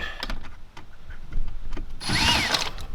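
A power driver undoes a Phillips head screw on a Holden Commodore indicator stalk, sounding as a short whirring burst near the end after some quiet handling taps.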